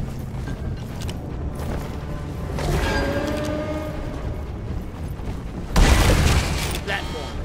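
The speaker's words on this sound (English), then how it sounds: "That one created a sticky-ticky grenade noise!" A sticky grenade exploding in the video game Deep Rock Galactic: a single loud, close boom near the end, following a stretch of busy combat noise and clanking mechanisms, with voices talking.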